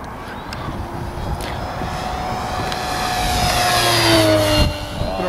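A scale model Mustang with a four-blade prop makes a flying pass at a model aircraft fly-in, its engine drone rising in pitch and loudness as it approaches, then dropping away as it passes.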